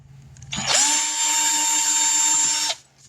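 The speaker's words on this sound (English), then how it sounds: "I'm just going to continue to drill little tiny holes" A small power drill whines at high pitch for about two seconds, drilling a tiny hole in plastic, spinning up sharply and cutting off abruptly, close and loud.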